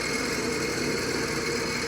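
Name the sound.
Clausing 5914 lathe starting up and running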